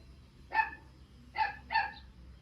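Three short dog barks, fairly distant and moderately loud, the last two coming close together after a pause.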